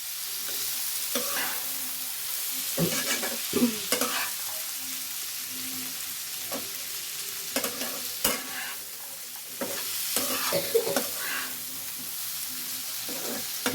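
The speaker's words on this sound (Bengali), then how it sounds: "দিয়ে এবার ভালো করে নাড়াচাড়া করে নিতে হবে" Peas and tomatoes are stirred in a pan for paneer navratan curry: a continuous sizzle with repeated scraping strokes and clatter at irregular intervals, close and fairly loud.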